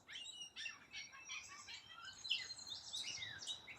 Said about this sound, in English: I don't know what that bird is that sounds really pretty.